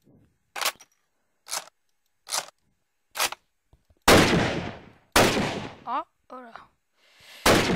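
Lee-Enfield sniper rifle shots in Minecraft with Flan's mod, version 1.6.4: several sharp, evenly spaced cracks, then two heavier booming blasts with short mechanical clicks between them and a final shot, with brief speech near the end.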